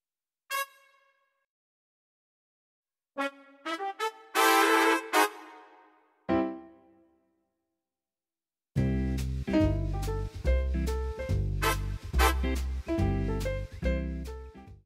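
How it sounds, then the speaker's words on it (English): Brass voice on a Yamaha Tyros keyboard, bright horn-like stabs and short phrases separated by silences, then a sustained run of punchy chords over a low bass line, clear and close. "And then a brass sound at the top."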